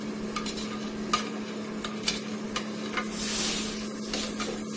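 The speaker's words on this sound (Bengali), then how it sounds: "তারপর আমি একটু নেড়ে দিব" Browning food frying in a pan is stirred, giving a string of faint scrapes and clicks over a soft, steady sizzle and a low background hum.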